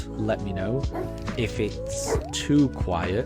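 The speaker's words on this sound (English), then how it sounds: "apologies for the dog barking" A dog barks and yips in short bursts close by, mixed in with steady talk from a person over the top throughout.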